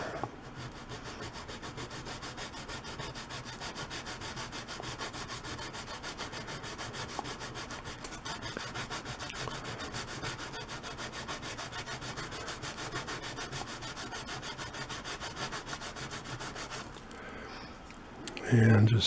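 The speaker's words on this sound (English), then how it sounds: "And just sand that down till it's not sharp" Edge of a plastic razor blade held at about a 15 degree angle is sanded down, a steady continuous scraping rub running for most of the stretch before stopping near the end.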